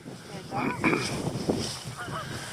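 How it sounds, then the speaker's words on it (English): Swans and ducks on a lake give several honking and quacking calls, fairly faint and somewhat distant, spread across a few seconds in the open air. "We've got some swans on the lake."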